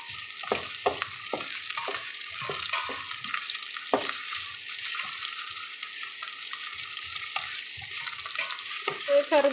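Vegetables sauté in ghee for a pulao with a soft, continuous sizzling hiss. Low knocks from occasional stirring are scattered through it, and the pan is fairly close with no voices.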